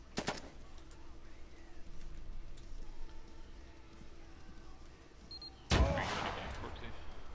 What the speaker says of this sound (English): No, I'm shooting it.